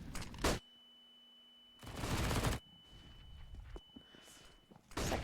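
M4 rifle fire in a competitive Counter-Strike Dust2 match, loud sharp bursts of shots at the start, in the middle and at the end, separated by quieter game sounds and a thin steady tone.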